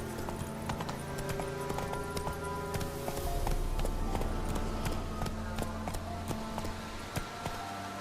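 Galloping hooves of a horse in The Witcher 3 beat in a quick, steady clip-clop rhythm, close and continuous over game music and ambient tones.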